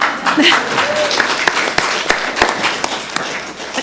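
Clapping from an audience at a county board of commissioners meeting, a steady moderate spread of many hands with a few sharper individual claps, continuing evenly throughout.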